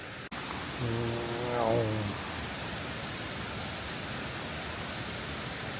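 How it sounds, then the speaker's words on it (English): A waterfall near Theth, Albania rushes in a steady, even roar throughout, with a brief tonal warble near the start. "There's the first sight of a waterfall."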